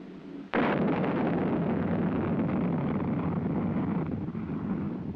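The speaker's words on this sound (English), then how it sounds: "Following the initial thrust provided by ignition of the first stage rocket motor" A missile's first-stage rocket motor ignites with a sudden loud blast, then roars steadily as a broad, rumbling thrust noise that holds for several seconds with no voices.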